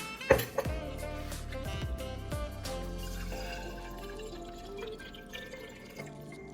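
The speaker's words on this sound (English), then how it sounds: "the first step is pouring 2 cups of water into this glass jar" Water pours steadily into a glass jar, two cups of filtered water, a bright trickling stream that rises in pitch as it fills, close by with no talking.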